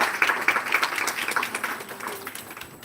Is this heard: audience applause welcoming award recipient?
yes